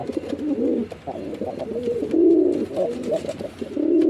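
Pigeons in a loft give soft, throaty coos in repeated rolling phrases, close by, with faint rustling between calls and no talking.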